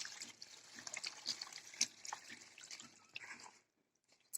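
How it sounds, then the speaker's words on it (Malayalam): Water poured into a container for preparing a hibiscus leaf hair wash, a soft splashing trickle with drips, heard close and fairly quiet, stopping near the end. "ഇനി നമുക്ക് ഇതിലേക്ക് വെള്ളം ഒഴിക്കണം."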